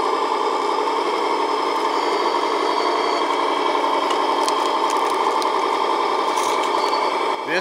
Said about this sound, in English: Oh yeah, bulldozer showing its might.